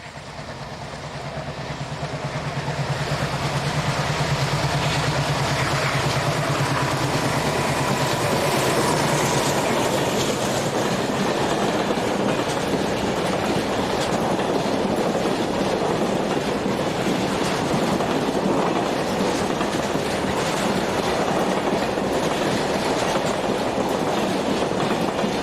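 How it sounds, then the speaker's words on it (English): A Portuguese diesel train rolls through São Pedro da Torre station without stopping, its engine drone rising within the first few seconds and then holding steady, with loud continuous rumble and rhythmic wheel clatter over rail joints for the rest of the pass. "The same train passes São Pedro da Torre and is being waved through by the station master."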